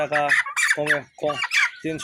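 Chickens squawk nearby in a run of loud, harsh, separate calls that come one after another with short gaps between them.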